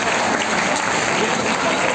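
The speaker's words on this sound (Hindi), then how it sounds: "इस बात के लिए जोरदार ताली" Dense, continuous crowd applause at a Bhojpuri film event, loud and steady throughout with voices mixed into the clapping.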